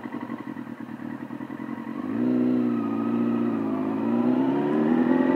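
A Yamaha R6 sport motorcycle engine running close by, a steady idle that rises into a higher, smoother sustained rev of around 3,000 RPM and holds there.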